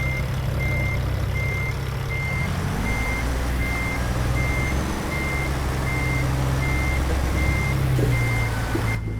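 Steady reversing beeps from an American semi truck backing a trailer loaded with corn in a trucking simulator game, evenly spaced tones over a constant low diesel engine drone, with a brief air-brake hiss near the end.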